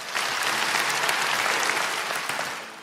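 A congregation at a church sermon gives loud, sustained applause. It holds steady for a few seconds before easing off slightly at the end.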